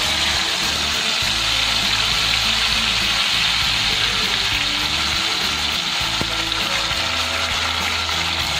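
A ground paste of onion, tomato and ginger sizzles loudly in hot oil in a pan for prawn pulao, giving a steady, dense hiss with faint stirring underneath and no voices.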